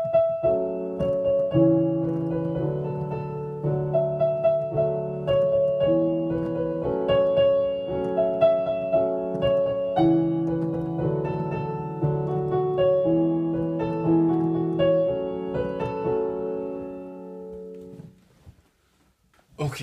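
Piano plays the verse of a song, steady chords under a moving melody, close and full for about eighteen seconds before stopping.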